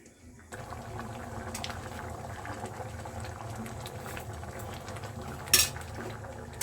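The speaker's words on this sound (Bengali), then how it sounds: "ভালো করে নাড়িয়ে নেব।" Egg curry simmers in a pan with a soft, constant bubbling, while a spoon occasionally scrapes and clinks against the metal, including one sharper knock near the end.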